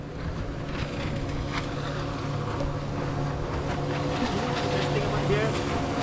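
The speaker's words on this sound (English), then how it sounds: "There's boats speeding through." Motorboat engines drone steadily as boats speed past over the water at Brunei's floating village, with wind noise and voices talking in the background.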